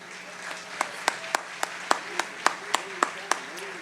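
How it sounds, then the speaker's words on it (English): Audience applause at the Symphony on the Sand outdoor orchestra concert: a run of sharp, evenly spaced claps, about ten over four seconds, over a faint steady crowd murmur. "Let's also applaud the Symphony on the Sand team, our sponsors, and the fabulous orchestra for this wonderful evening."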